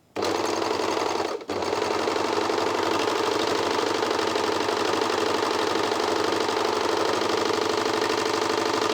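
A Janome 2000D serger runs continuously at a fast, even whir while stitching a rolled hem, close and loud, with one brief pause near the start.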